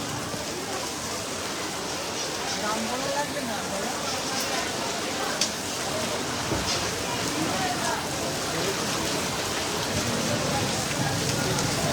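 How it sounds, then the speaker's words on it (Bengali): Heavy rain pours down in a dense, unbroken roar, with faint voices barely audible beneath it. "বৃষ্টি প্রচুর বৃষ্টি হয়েছে"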